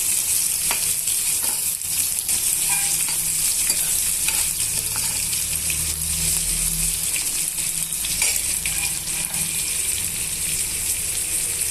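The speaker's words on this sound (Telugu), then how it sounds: "కట్ చేసి పెట్టుకున్న ఉల్లిపాయ ముక్కల్ని వేసుకోవాలి వేసుకున్న తర్వాత ఇలా బాగా వేగనివ్వాలండి" Chopped onion pieces fry and get stirred in a hot pan for a tomato bath, a steady close sizzle with scraping stirs throughout and no voices.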